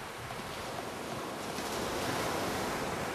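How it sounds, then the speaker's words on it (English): Ujjayi ocean breath during pranayama practice: a steady, close, hissing rush of air that swells slightly louder partway through, with no talking. "Keep the focus on the ocean breath over our 8, 4, 12,"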